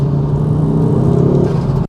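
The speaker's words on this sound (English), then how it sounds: "Obviously we've got the audible tone from the exhaust" A Ford Focus RS exhaust drones loud and close while driving, a steady deep engine tone with a slight pulsing rumble before it cuts off abruptly.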